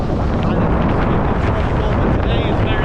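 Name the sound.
strong wind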